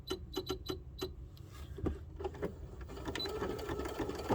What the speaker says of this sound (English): And then we are going to do a straight stitch.